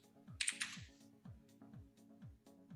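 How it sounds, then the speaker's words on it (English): Computer keyboard keys tapped in a short burst of quick strokes, close and quiet, during 3D modeling work with no talking over it. "if we type in IOR"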